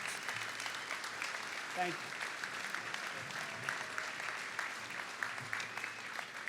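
A crowd at a high school graduation ceremony in a large hall gives sustained, dense applause, with a speaker's voice heard faintly over the clapping.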